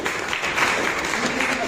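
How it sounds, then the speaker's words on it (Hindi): Audience applause in a hall honouring the company CMD at an Ayurveda company event, a steady wash of clapping with no clear gaps across the short stretch. "तालियां चाहूंगा मैं सर के लिए।"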